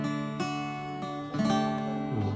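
An unamplified Kawes acoustic guitar with low action is strummed in a few slow, ringing chords, close and moderately loud with no voices.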